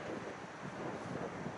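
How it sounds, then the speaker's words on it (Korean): Steady wind buffeting a microphone outdoors on a road trip toward Haenam's Ttangkkeut village after the Gurye sansuyu flower festival, a continuous low rumbling roar without gaps. "바람."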